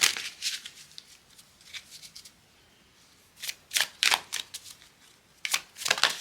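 Tarot cards being shuffled by hand in quick bursts of crisp riffling and flicking, close and fairly quiet, with short pauses between rounds and no talking.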